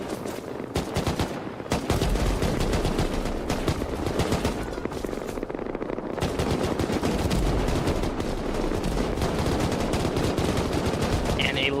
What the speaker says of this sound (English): And a lot of cannon fire starting to ring off right now.